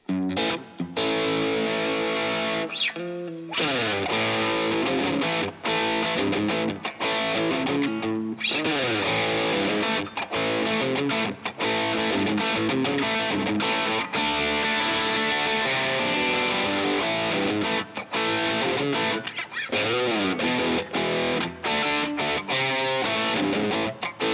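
Heavily distorted electric guitar through an amp simulator plays dense, aggressive riffs with a saturated, gritty tone, loud and continuous with brief chopped pauses.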